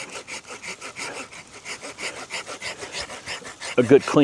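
A hand saw rasps back and forth through a small Vitex tree limb in a garden, with quick, regular strokes close up, followed by a sharper crack near the end as the cut finishes.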